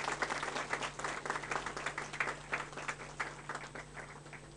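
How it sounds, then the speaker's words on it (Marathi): Audience applause at a public school felicitation event in Pune, a steady patter of many hands clapping at moderate distance, fairly faint under a low hum, continuing evenly throughout. "टाळ्या वाजून आपण त्यांचं अभिनंदन करूया"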